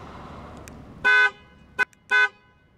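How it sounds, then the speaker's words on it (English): A 2017 Ford Fusion Titanium's panic alarm sounds its horn in three loud honks, two long blasts separated by a short toot, over a faint low background rumble. "I just activated the panic alarm."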